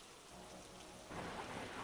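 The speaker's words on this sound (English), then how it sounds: "That night, the rain never stopped. It drummed lightly on the roof, tracing patterns against the windows" Rain drums steadily on a cabin roof during a thunderstorm, a soft, even wash of drops that swells slightly louder midway, with no voices.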